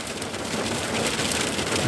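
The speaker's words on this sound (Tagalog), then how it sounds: "Nababasag yung yelo oh." Hail or ice pellets patter and crackle steadily on a surface, a dense close rattle that swells slightly toward the end, with no talking.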